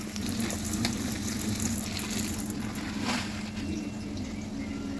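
Potatoes frying in a pan, a continuous moderate sizzle with a few brief stirring scrapes, close and steady with no talking.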